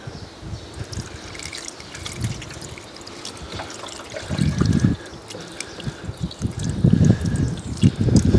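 Water trickling and dripping from a leak at the corner of a Fiat 500, irregular splashes and dribbles growing louder toward the end, heard close and alone.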